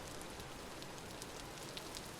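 Heavy rain in the game Vintage Story, a short stretch of constant hissing downpour at low level with a few scattered brighter drop ticks.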